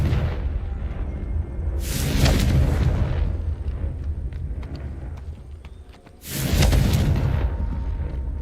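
Confringo blasting spell in Hogwarts Legacy: two loud, close, booming explosions with bursts of crackling debris, each fading into a rumbling tail, separated by a lower humming lull.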